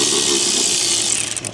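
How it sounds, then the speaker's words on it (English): Ratcheting wrench working a stud on an old truck's brake booster during a frame-off restoration, giving a steady close mechanical whir and clicking that breaks into a few uneven clicks at the end. "I need to put a wrench on it."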